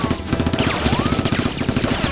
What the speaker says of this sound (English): Rose steps out and fires at Sickman and the two robbers